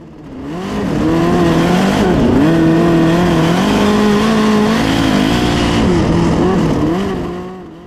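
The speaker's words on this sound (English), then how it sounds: "hear that we're down a cylinder or we've got a clogged nozzle" A dirt-track sprint car racing at the Chili Bowl runs with a roughish engine that may be down a cylinder or have a clogged nozzle, giving a steady, loud droning roar with shifting pitch.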